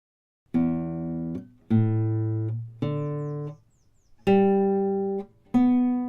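Guitar strings plucked one at a time, each ringing out and rising in pitch from low to high, clear and close with short pauses between notes.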